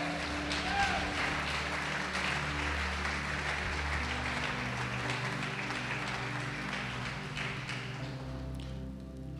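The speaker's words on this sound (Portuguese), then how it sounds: "Pode aplaudir o Senhor Jesus e glorificar." A church congregation applauds during a Portuguese-language gospel sermon, dense clapping layered over a loud sustained musical backing that continues throughout.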